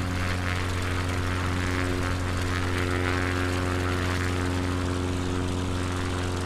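A propeller aircraft engine in the Microsoft Flight Simulator 2020 video game runs at full throttle, a loud, steady droning hum with a constant pitch throughout, with no talk over it.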